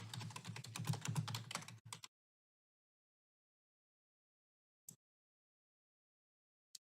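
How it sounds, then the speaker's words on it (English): Rapid keystrokes on a computer keyboard clatter for about two seconds during a city finance committee meeting, then stop, followed by long silence broken by two isolated faint key taps. "I was typing on the fly"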